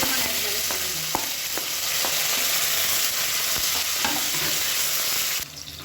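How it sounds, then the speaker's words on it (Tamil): Onions sautéing in a pan with curry leaves for a Tamil non-veg lunch, a continuous close sizzle broken by sharp spoon taps and scrapes against the pan, easing off at the very end. "இப்போ வெங்காயம் நல்லா வதங்கிடுச்சு."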